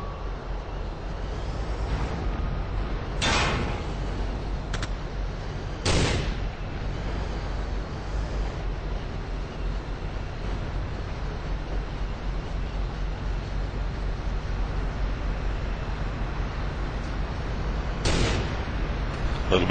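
Tank cannon fire in the video game Battlefield 2 during a tank battle: three loud, sharp blasts spaced well apart over a constant low rumble of engines and battle noise, with no talk.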